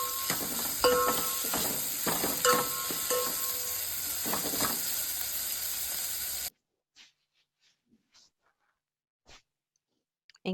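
Sliced onions sizzle and hiss steadily in hot oil in a pan for buttermilk rasam, with occasional scrapes of stirring, before the sound cuts off abruptly, leaving near silence broken by a few faint clicks.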